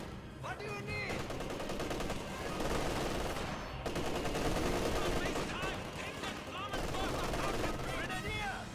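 Dense gunfire and machine-gun bursts from a Company of Heroes 2 battle, loud and continuous, layered with explosions and game unit voice callouts.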